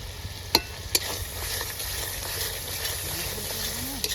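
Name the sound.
spices being sautéed in a pan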